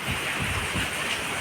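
Rain pours steadily on a windy day, a constant broadband wash of drops that is close and moderately loud, with no speech over it.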